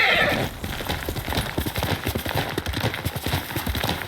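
A horse in the samurai video game Ghost of Tsushima gallops with rapid, rhythmic hoofbeats, close and clear, and a short whinny sounds at the start.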